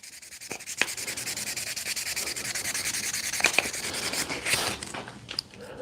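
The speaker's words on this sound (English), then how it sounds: "the sanding of this micarta is kind of a pain in the ass" Hand sanding of a micarta knife handle, a steady rhythmic rasping of repeated strokes, close and moderately quiet, with no talking.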